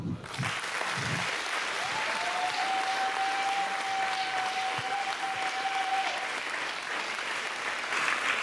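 A large audience claps steadily at an awards gala in Gdańsk's Stary Maneż, a dense, even wash of applause with a thin sustained tone running through the middle.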